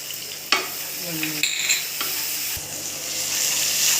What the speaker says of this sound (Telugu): అల్లం వెల్లుల్లి ఫ్రెష్ ఫ్రై అయింది కదా